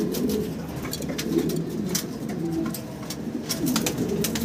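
A pair of Maltese blue-bar pigeons coo softly and repeatedly close by, with low rolling calls under small scattered clicks and shuffling.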